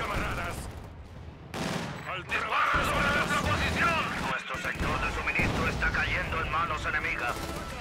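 Battlefield din from the Company of Heroes 2 strategy game, with Soviet forces under shelling: bursts of gunfire and artillery booms crowd together loudly and continuously, with a voice speaking over the combat.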